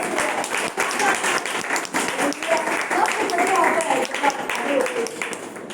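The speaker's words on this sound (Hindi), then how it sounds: "जरा थोड़ा ताली बजाओ।" A church congregation claps along in steady, moderately loud applause, while a voice keeps talking over the clapping.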